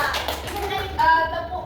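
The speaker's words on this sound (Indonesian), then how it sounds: "Tepuk tangan dulu untuk kita." Hands clapping in a classroom, a quick burst of claps from children with teacher and kid voices mixed in throughout.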